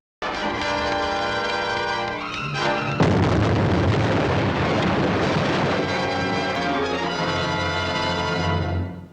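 A truck blown up by a trap in a film, a heavy, booming blast that rolls on as a long, dense roar under a ringing, tonal score.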